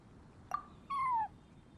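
A cat gives a short chirp followed by a clear, drawn-out meow, close and fairly quiet against a calm indoor background.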